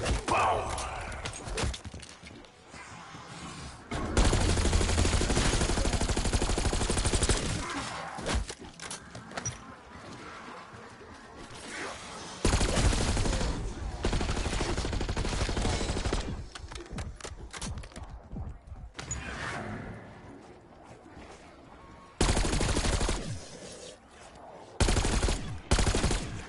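Bursts of gunfire from Call of Duty Black Ops 6 gameplay, loud and dense, coming in several sustained volleys with brief quieter gaps between them and no speech over the top.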